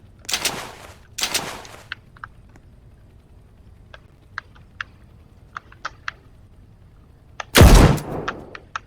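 Gunfire from a machine gun in the Roblox game Criminal Tycoon comes as short loud bursts near the start and end, with scattered single sharp shots and clicks in between.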